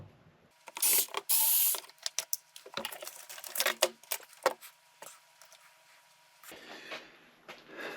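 Screwdriver backing screws out of the solar panel backing of a Spypoint Flex S trail camera, close clicking ratchet-like turns and small plastic clatters in irregular bursts, then a quieter hiss toward the end.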